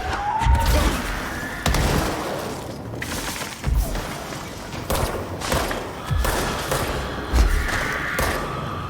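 Gunfire in a video game cracks out in repeated bursts and heavy thuds, loud and close, scattered irregularly across the clip with no talk over it.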